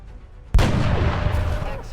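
A gunshot in XCOM: Enemy Within booms in suddenly after a brief quiet lead-in, loud and close, then rings on as a dense, sustained rumble of gunfire and echo through the rest of the moment.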